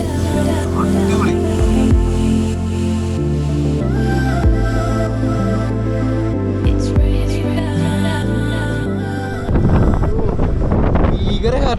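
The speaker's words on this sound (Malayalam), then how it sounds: "ഭീകര കാറ്റാണ്, ഭീകര കാറ്റ്." Strong wind buffets the microphone at Milford Sound, a steady roaring rumble that continues throughout and grows rougher and louder near the end.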